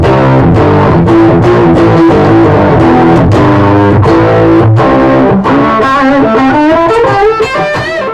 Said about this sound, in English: we're first going to go straight into the TS9.